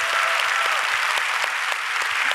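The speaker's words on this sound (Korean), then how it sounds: "우리 특별히 부엌팀들 박수 한번 해주세요" A Korean church congregation claps for the kitchen team during Sunday service, a brief burst of steady applause from many people, loud and even throughout.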